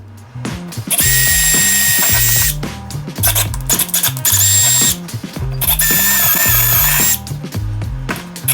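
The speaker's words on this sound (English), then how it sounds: "I'd rather have these start the hole and this step part of the drill to do the rest of the work" A loud power drill with a step bit whirs up close, speeding and slowing in long bursts with rattling, grinding chatter as it bores a deadbolt hole into a wooden door frame.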